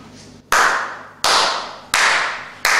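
Theatre audience applause during a one-man stage show arrives in four loud, sudden bursts, each starting sharply and slowly fading before the next swell.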